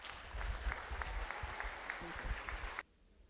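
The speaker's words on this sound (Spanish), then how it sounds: "Recibámoslo con un fuerte voto de aplausos." Audience applause at an academic book presentation rises as a steady, fairly quiet wash of many clapping hands heard from a distance, then cuts off abruptly near the end.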